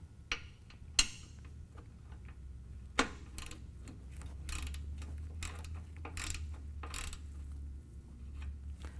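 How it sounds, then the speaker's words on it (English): A ratchet with a 5/8 inch socket loosens the oil drain plug on a Harley-Davidson, producing faint, close ticking ratchet clicks in short irregular bursts with a few sharper metallic knocks. "Take your ratchet and your 5/8 inch socket"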